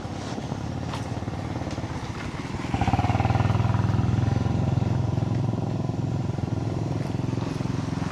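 Motorcycles without license plates rumble along a busy street with breakfast stalls in Indonesia, growing louder midway as one passes close by, with steady traffic noise throughout.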